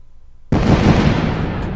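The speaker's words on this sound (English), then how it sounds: "With loud roars, the cannons and arquebuses soon fired directly into the mass of warriors" Cannons and arquebuses fire in one sudden, loud, close blast that rolls on as a dense, rumbling roar after a quiet start.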